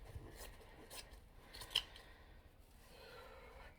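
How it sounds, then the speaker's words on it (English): Scissors cut through fabric close by in a few soft, crisp snips, with one sharper click about halfway through, all faint against a quiet room. "So actually, I'm going to cut this here."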